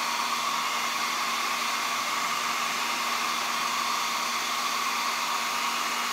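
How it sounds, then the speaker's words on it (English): A hair dryer blows steadily at close range for several seconds, heating paint to loosen it, a constant even whoosh with a faint motor hum and no talk. "hair dryer,"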